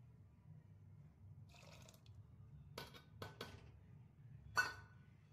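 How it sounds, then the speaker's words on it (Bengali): Washed dal lentils tipped into a pot of hot water on the stove, heard as a few soft splashes and clinks around the middle and end, with a faint low rumble throughout and no talk. "আমি এবার এর ভেতর দিয়ে দিচ্ছি ডালটা, ধোয়া ডালটা"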